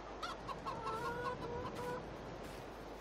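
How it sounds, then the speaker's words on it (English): Chickens in a barn in the farming game Farming Simulator 22 cluck in short repeated calls, soft and fairly close, over a quiet steady ambient hum. "There's some chickens in this barn."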